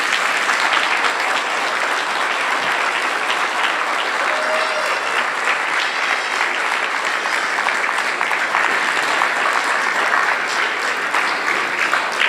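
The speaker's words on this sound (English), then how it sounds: "let us all give them a big round of applause" Loud, sustained applause from a large audience at a Sunday program after a musical play, a dense, even roar of many hands clapping without pause.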